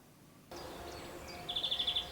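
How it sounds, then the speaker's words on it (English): Birds sing in lush summer countryside around Wiveliscombe. Faint calls come first, then a quick run of about six bright, evenly spaced chirps over a quiet background hiss. "Now, with the railway gone, the only sound is that of birdsong"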